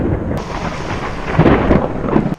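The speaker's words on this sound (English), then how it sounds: "at one point it felt like there was 3 different storms coming from different directions that just congregated above the house" A loud, close rumble of thunder rolls on continuously during a summer thunderstorm over a house, with the faint hiss of rain underneath.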